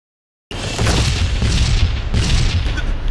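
Heavy battle volley of weapons firing, a continuous roar of deep booms and gunfire bursting in from silence and rolling on loudly without pause, with two sharper blasts standing out.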